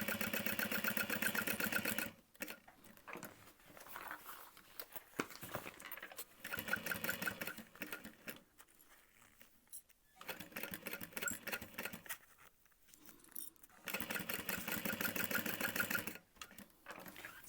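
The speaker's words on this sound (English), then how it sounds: "And then we'll top stitch that down." A sewing machine top stitches a small pleat on a backpack, running in long steady buzzing bursts with short pauses and quieter handling between runs, close and alone.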